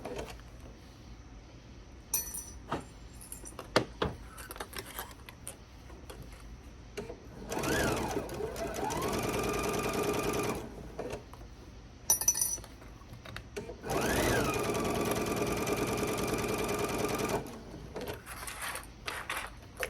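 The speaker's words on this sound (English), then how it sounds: "as I get to a straighter part, I can go just a little bit faster with my sewing" A sewing machine stitches fabric for a reversible bag in two sustained runs, its motor whirring up and humming steadily, with clicks and handling noises between the runs and no talking.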